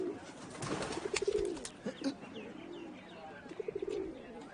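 A pigeon or dove coos in soft repeated low phrases, fairly close and clear, with a few sharp chirps and faint background sounds between the calls.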